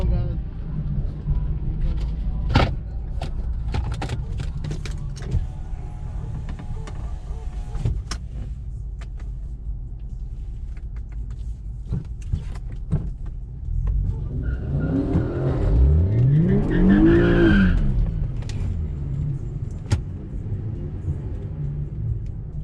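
An Infiniti G37 at a drag strip, a car engine rumbling at a distance that swells into a loud, rising acceleration pass near the end, with scattered clicks and knocks before it.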